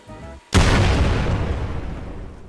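A rocket explodes in the Roblox game a desert: a sudden loud, close boom breaks over a low hum and then rolls out into a long, slowly fading rumble.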